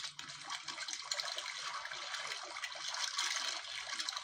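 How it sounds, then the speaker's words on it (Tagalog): Water sloshes and splashes in a steady, fairly quiet wash of sound, with no voices. "Natural yung galawan ng dagat, oh, yung tunog."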